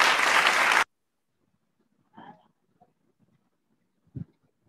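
A group of children in a kids' club bursts into loud applause for a child, a short clap of under a second that stops abruptly, followed by near silence with a few faint voice sounds.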